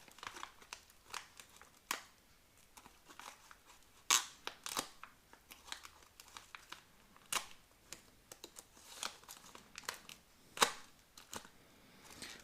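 Plastic MRE ration pouches from a 2003 U.S. military Chicken in Thai Sauce menu being slit and torn open with a knife, giving quiet, scattered crinkles and sharp rips with several louder tearing bursts.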